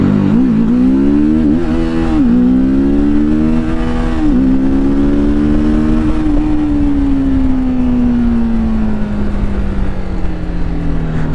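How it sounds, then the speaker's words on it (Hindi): A TVS Apache RTR 310 motorcycle accelerates through its gears while riding in urban mode. The engine rises loud and close with a droning note, and there are a few brief dips at gear changes before it settles into a steady, gradually falling hum. "तो बाइक के अंदर एक कमाल का एक्सेलरेशन मिल रहा है, बहुत ही कमाल का एक्सेलरेशन।"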